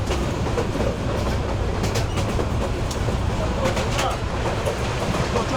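A local train runs from Patgram to Lalmonirhat, heard from inside the carriage. Its loud, steady rumble carries light rattles and occasional clacks, and murmuring voices sit faintly underneath.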